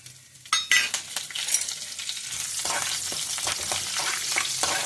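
A tempering of dried red chillies and brinjal sizzles in a pan, starting with a few sharp clatters and then settling into a steady, close frying crackle with occasional stirring scrapes.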